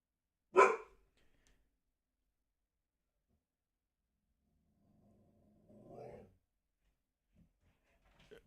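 Dogs barking in a home, one sharp close bark at the start followed several seconds later by a softer, more distant bark or two, with quiet gaps between.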